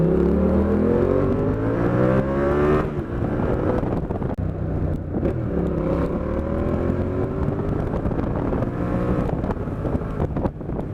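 Yamaha MT-07 motorcycle with an IXRACE exhaust pulling hard through the gears, its engine note repeatedly climbing in pitch and then dropping at each shift, loud and close, with wind buffeting and no voices.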